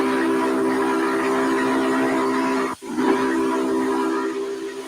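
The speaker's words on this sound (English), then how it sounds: "if I blow the whistle" Steam locomotive whistle in a train video game climbing the Wasatch grade, a sustained steady chord held for several seconds, briefly cut off and then resumed, with hissing steam underneath and no talk.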